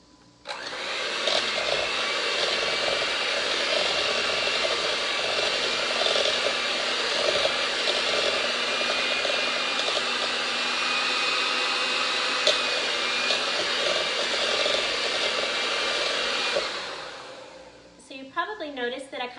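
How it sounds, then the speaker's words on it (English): An electric hand mixer beats cupcake batter for marble cupcakes with a steady, loud, close whirring drone that runs unbroken for most of the stretch, then cuts off near the end with a few light clinks. "I'm just going to mix again using my hand mixer"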